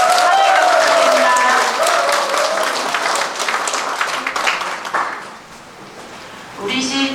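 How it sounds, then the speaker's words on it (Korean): Audience applause welcoming the mayor at a Yeongi-myeon citizens' dialogue meeting, a dense burst of clapping from a hall crowd that tapers off, mixed with an amplified voice over the public address. "환영의 박수 부탁드립니다"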